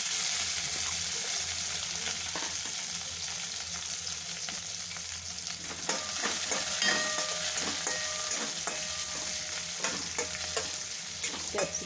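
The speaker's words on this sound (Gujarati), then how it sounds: "કેપ્સિકમ એડ કરીશું।" Capsicum sizzles and fries in a pan for mamra chaat, with a steady hiss and occasional stirring scrapes throughout, close and continuous with no talking.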